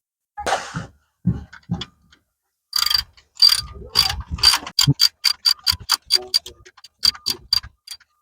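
A ratchet wrench tightens the aluminium oil filter housing cap on an Opel Astra J 1.6 petrol engine during an oil change, giving a steady run of quick, close metallic clicks after a few scattered knocks and handling sounds.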